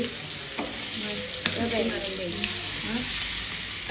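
Fish frying in a pan of oil sizzles loudly and continuously, with a few sharp clicks and spatters as pieces are moved and flipped, and voices talk faintly underneath.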